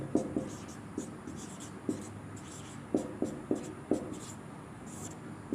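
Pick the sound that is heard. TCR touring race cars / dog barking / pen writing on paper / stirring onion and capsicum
pen writing on paper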